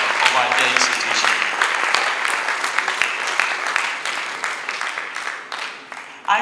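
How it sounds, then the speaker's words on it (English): An audience at a university workshop applauds the Vice Chancellor with sustained, dense clapping that holds steady for several seconds before tapering slightly, with a few voices mixed in. "Please, a round of applause for her, please."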